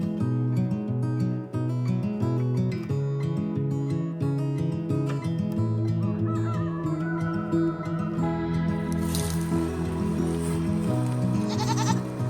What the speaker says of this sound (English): See you later, my goats.